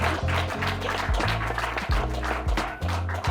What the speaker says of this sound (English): Once again, a big applause to those three on stage.